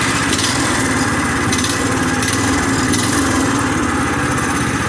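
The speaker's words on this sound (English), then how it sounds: "The engine, check this out. I'm going to turn it on." A Predator 212 engine mounted on a steel plate in a golf cart runs steadily at a loud, even buzzing idle with a slight rattling vibration, with no talk over it.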